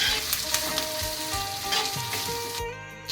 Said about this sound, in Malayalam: ഇഞ്ചി, വെളുത്തുള്ളി, പച്ചമുളക് ഇതെല്ലാം നമുക്ക് ഇതിലോട്ടിട്ട് വഴറ്റിയെടുക്കണം.